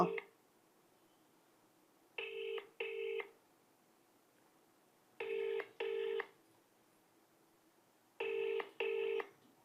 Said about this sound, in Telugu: జేఏసీ చైర్మన్ వెంకన్న గారికి ఫోన్ చేస్తున్నా